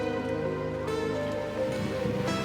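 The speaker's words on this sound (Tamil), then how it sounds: "மழை பெய்ய ஆரம்பிச்சிட்டு" Rain beginning to fall on a maize and groundnut farm field, a steady hiss of drops spread over the whole moment, with tonal music or hum running underneath.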